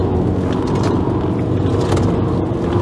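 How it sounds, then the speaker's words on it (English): Winter tires roar on an Alfa Romeo 156 1.9 JTD at speed, a loud steady rumble of road and tire noise with engine drone heard from inside the cabin; no talking. "Yeah, you can hear the tires, but she's not doing anything."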